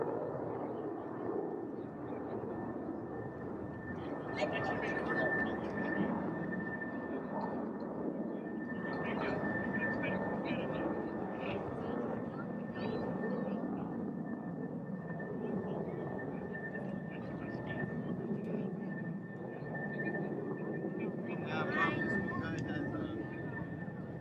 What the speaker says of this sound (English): About this time, the aircraft are still accelerating, and they're going through approximately 350 knots at this time.